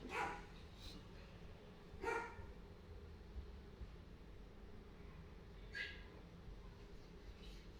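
A small dog barks indoors in short sharp yips, four bursts spread unevenly across the stretch, fairly close but modest in level over quiet room noise.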